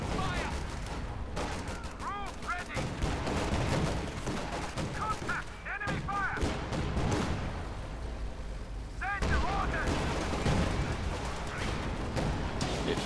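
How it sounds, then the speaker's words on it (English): Company of Heroes 2 1v1 battle, with dense bursts of rifle and machine-gun fire and scattered explosions crackling continuously, while a caster talks over the din. "Bit further shooting there."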